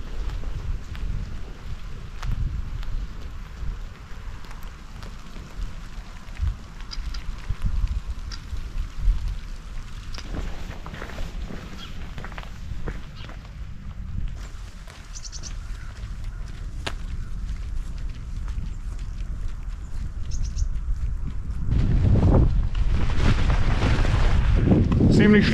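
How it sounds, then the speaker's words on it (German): Wind and rain outdoors on an empty street in bad weather, a steady broadband rush with gusty wind noise on the microphone that swells louder toward the end. "Der Wind nimmt zu und der Regen auch."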